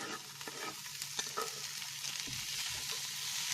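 Sliced onions and two medium tomatoes cut lengthwise sizzle and get stirred in a pan for a fish masala, a steady close frying hiss with scraping stir strokes throughout and no voices.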